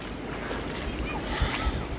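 Surf at Mona Vale beach washes in a steady broadband rush under gusty wind buffeting the microphone, with a couple of low thumps near the end.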